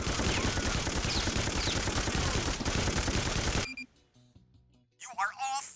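Dense, continuous gunfire from the NARC video game (2005) roars loudly for about three and a half seconds, then cuts off abruptly, leaving a quiet gap before a voice speaks near the end.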